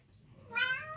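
Cat being chased by a dog lets out one short, faint meow midway through a brief quiet moment.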